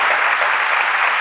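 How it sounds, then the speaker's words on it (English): A short, loud burst of dense applause from a large audience at a corporate talent conference keynote, continuous for just over a second. "So big round of applause to yourselves for getting involved."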